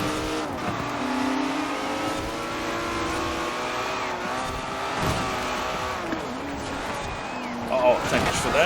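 A car drives in the racing video game Forza Horizon 4, its engine droning steadily and loudly with shifting pitch, some tire scrub and a sharper burst near the end, while someone talks over it.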